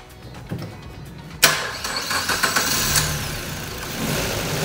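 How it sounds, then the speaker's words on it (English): A car engine cranks briefly using a Ring RPP900 compact portable jump starter, then catches and starts, settling into a steady running idle nearby with some revving. "are now going to try and start the engine using this Ring jump pack"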